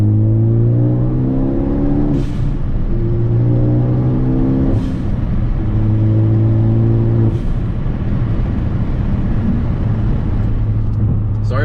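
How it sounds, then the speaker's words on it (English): Inside a Ford Focus ST, the engine climbs steadily through the gears, and three sharp hissing whooshes from the blow-off valve mark each shift, loud and close against the constant engine drone. "So the blow-off valve sounds real nice and crisp."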